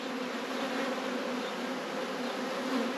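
Honeybees swarm over an open beehive with lots of brood in a hawthorn-flowering season, making a dense, steady, close-up buzz throughout, with no talking.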